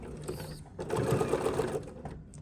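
Sewing machine stitching fabric in a quick whirring burst of rapid needle strokes, close and moderately loud, with quieter mechanical handling before and after.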